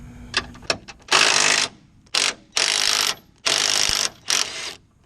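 A ratchet wrench works an 18 mm bolt loose on a Ford F250 truck. A few single clicks give way to four fast, loud ratcheting bursts with short pauses between them.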